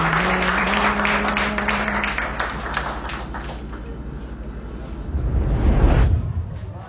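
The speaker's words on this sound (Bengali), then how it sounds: "সবাই আরেকটা করতালি।" An audience applauds to welcome Akib after he takes first place in a two-month training, a steady, dense wash of clapping that runs the full length alongside faint tonal music, swelling slightly near the end.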